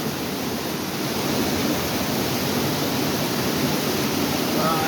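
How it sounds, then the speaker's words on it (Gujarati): Steady, broadband rush of rainwater flowing over a flooded road in Udhna, Surat, continuous and fairly loud throughout with no pauses. "જો આખો રોડ પર પાણી ચાલે, આખો રોડ ભરેલો છે"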